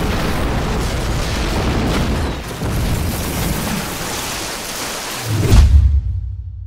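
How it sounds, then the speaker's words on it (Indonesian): A bomb blast in an action film: a long, loud rumbling roar of explosion that swells, falls back, then surges into a deep boom before cutting off abruptly into silence. "Tapi ternyata Xiao Ma udah memasang bom dan tiba-tiba"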